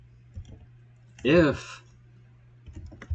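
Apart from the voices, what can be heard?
typing on a computer keyboard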